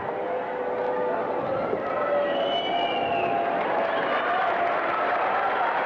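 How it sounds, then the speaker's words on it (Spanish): Steady audience applause at the Señorita México 1991 beauty pageant, a dense, continuous wash of clapping from a large crowd, with a voice faintly over it. "Se lleva también el aplauso del público."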